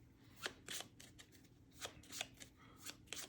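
A deck of Tapestry board game cards is shuffled by hand, giving quiet, close riffling and snapping bursts in an uneven rhythm, with no voices.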